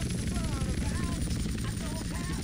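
Steady low rotor thump and whine of a helicopter in flight in the video game GTA San Andreas, continuous and fairly loud, with a voice talking over it.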